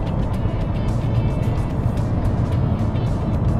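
A Mercedes-Benz W220 S500 with a V8 cruising slowly through town, a steady low engine hum and road noise heard from inside the cabin.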